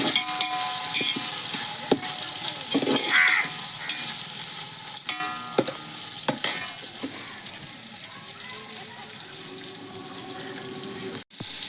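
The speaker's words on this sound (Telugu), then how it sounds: "టమాటాలు వేసుకుంటున్నాను" Tomatoes frying and being stirred in a pan for a tribal-style chicken biryani, with a steady sizzle broken by scraping and clinking of the utensil, close up.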